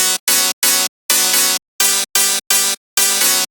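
Loud phonk drop chords layered with a Z beta synth preset blast in a chopped rhythm of about nine sustained, buzzy, horn-like stabs separated by brief silences, alone and very forward.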